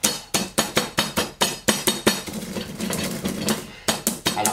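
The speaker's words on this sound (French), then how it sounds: "Je vais le broyer au mortier," A whole spice mix with ginger and bay leaf is coarsely pounded in a mortar: sharp, evenly spaced strikes in a steady rhythm, a brief grinding stretch in the middle, then more blows, close and clear.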